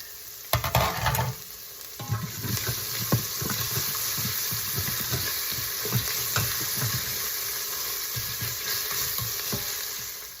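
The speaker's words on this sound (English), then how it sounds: "Our garlic and ginger are now very fragrant, and we have our pepper and onion pieces going in. Stir those around." Garlic, ginger, pepper and onion pieces stir-frying in a pan, a steady loud sizzle with repeated scraping and tossing strokes throughout, beginning with a burst as the vegetables go in.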